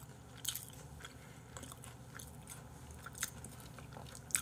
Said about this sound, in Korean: 근데 가라아게보다는 더 그냥 겉이 되게 바삭하고 맛있네. 팝콘 치킨 같은 느낌이야.